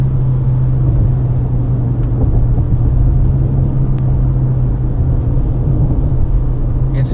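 Cabin sound of a 2019 Lexus NX300 F-Sport accelerating: a loud, steady low engine drone and rumble that holds evenly throughout, heard from inside the car.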